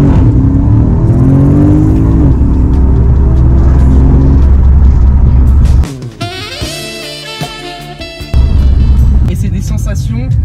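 A Porsche Panamera GTS drives and accelerates, its engine a loud, deep rumble with rising revs, then a brief quieter stretch of mechanical whir before the heavy engine drone returns.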